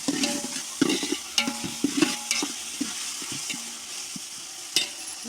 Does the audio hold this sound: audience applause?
no